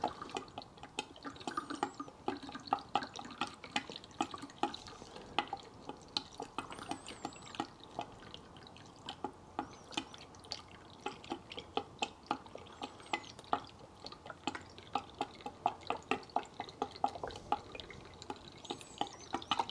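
Diesel drips steadily from a removed fuel filter on a 1994 Land Rover Defender 2.5 Tdi, a quiet run of close, irregular drops and trickles with no talking.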